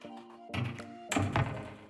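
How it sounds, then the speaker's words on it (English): A push-to-open magnetic cabinet door on a shoe storage console at a home entrance gives two soft, close thunks about half a second apart, with a faint hum underneath. "this is a push magnet storage. You can just push it and open it"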